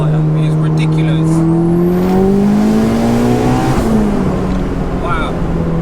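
A 694bhp Mitsubishi Evo V accelerates hard, its engine note climbing steadily in pitch through the revs, loud and close from inside the car, with voices faintly underneath.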